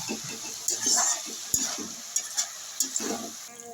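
A spoon stirs boiled banana flower through spice paste in a pan for Bengali mochar ghonto, giving close, repeated scraping strokes over a soft, steady sizzle.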